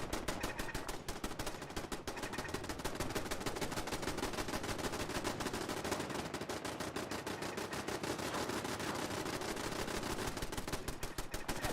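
A robot's gun from a video game fires in a long, steady automatic burst of rapid, evenly spaced shots. The burst is moderately loud and runs unbroken from start to finish, with no talking.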